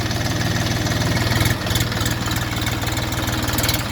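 A diesel car engine with 385,000 km on it idling steadily nearby, with a low, even chugging pulse and a brief dip partway through.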